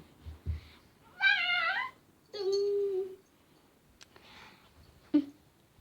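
A cat meows several times, close by, in drawn-out calls separated by short pauses, with a faint click near the end.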